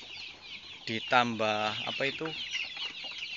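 One-month-old KUB chickens cluck close by in a short burst of harsh, harmonic calls, with a person speaking briefly over the birds.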